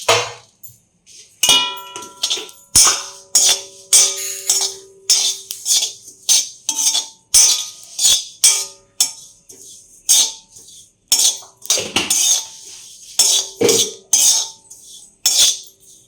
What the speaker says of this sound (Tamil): ஜீரகமும் நல்ல மணமாக வாசனை வர அளவுக்கு வறுத்துடணும்